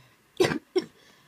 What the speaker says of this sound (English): Oh, I'm coughing.